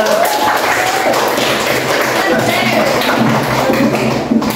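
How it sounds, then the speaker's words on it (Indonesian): Students clap their hands together in a classroom, a sustained, even round of applause that runs the whole time with a voice briefly over it. "Tepuk tangan buat semuanya."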